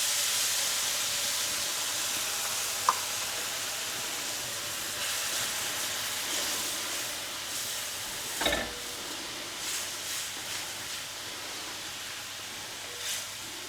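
Red wine goes into a hot pan of caramelising onions, giving a steady hiss and sizzle with a soft stir and a few small clinks, fairly close and with no voices.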